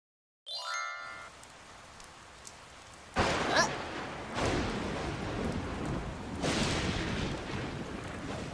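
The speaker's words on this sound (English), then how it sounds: "It started to rain on Pinkerton's picnic." Steady rain pours down while deep thunder rolls in several long rumbling waves, following a short musical tone at the very start, with no voices.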